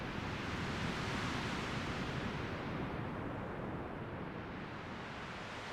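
Synthesized ocean waves built from noise in VCV Rack modular software, a steady dense wash that swells slightly and then eases back, continuous and fairly loud with no voices.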